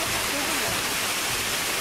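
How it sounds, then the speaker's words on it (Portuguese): Waterfall at Basalto park in Araraquara, a steady, loud rushing roar of falling water filling the whole short moment. "Quer tirar uma foto na cachoeira?"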